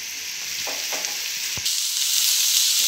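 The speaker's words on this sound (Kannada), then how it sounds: "ಇವಾಗ ಸ್ವಲ್ಪ ಫ್ರೈ ಆಗ್ಯಾವ ನೋಡ್ರಿ ಉಳ್ಳಾಗಡ್ಡಿ" Onions frying in a pan in a home kitchen, a steady close hiss of sizzling oil with a few stirring scrapes and a soft knock, growing slightly louder near the end.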